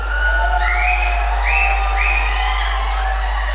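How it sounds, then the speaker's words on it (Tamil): Crowd at a Tamil stage talk cheering, with rising whoops and shouted voices over a busy hall murmur and a low electrical hum, loud and sustained throughout. "கைத்தட்டல் வருதுன்னா என்ன அர்த்தம்?"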